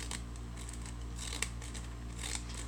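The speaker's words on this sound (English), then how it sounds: "I don't know why I keep using these scalloped edge scissors" Scalloped-edge scissors cut through fabric during a sewing project, giving soft crisp snips over a steady low hum, with one sharper click midway and a few brief rustles.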